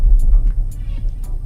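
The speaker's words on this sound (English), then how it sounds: "when you put it in sport, apart from the dash getting all angry, the exhaust gets angry too" Peugeot 308 GTi 270 hot hatch exhaust in sport mode, a deep low throbbing rumble that holds steady and close throughout, with no talking over it.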